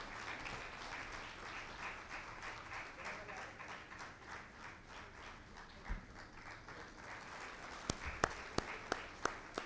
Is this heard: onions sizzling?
no